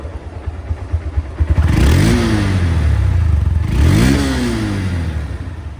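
A 2021/22 second-hand Honda Hornet LED motorcycle engine is revved close up twice, each rev rising and falling over a low idle.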